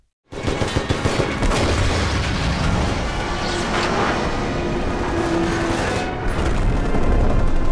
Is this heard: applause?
no